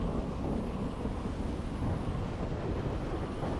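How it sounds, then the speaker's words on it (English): Thunder in the Super Mario Odyssey video game, a continuous low rumbling roll that stays loud and steady throughout, heard without speech. "Thunder and lightning."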